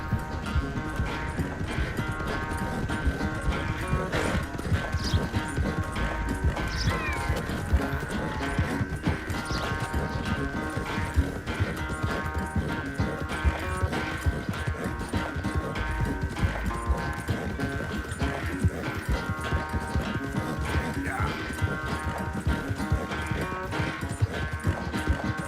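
Horse hooves gallop steadily in Red Dead Redemption 2, a continuous rapid clip-clop beat running throughout a race, with occasional brief snorts over a constant background bed.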